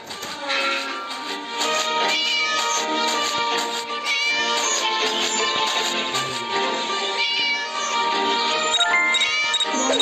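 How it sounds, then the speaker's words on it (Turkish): A cat meows inside the Scary Teacher video game amid continuous jingly game music and tinkling chimes that run loud throughout, the mewing cries blending into the busy tune. "Mızmız kedi."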